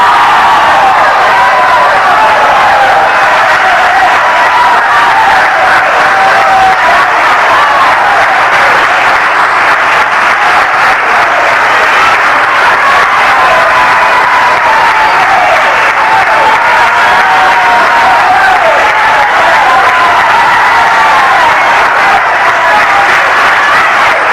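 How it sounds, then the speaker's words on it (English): A church congregation at a Feast of Weeks service claps loudly and continuously for over twenty seconds, a dense, sustained wash of applause with faint cheers mixed in. "Now there's some of you clapping with an empty clap."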